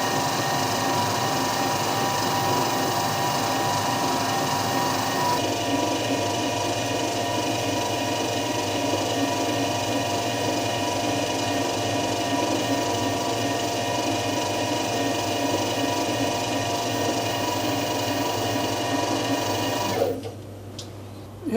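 A small lathe or milling machine cutting metal on a first trial of through-spindle coolant without an expensive machine, a steady, quiet mechanical whir with fine cutting noise running continuously for about twenty seconds before stopping near the end.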